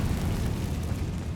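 A fiery Confringo spell explosion from Hogwarts Legacy, a dense, loud rumbling blast that sustains without a break for over a second.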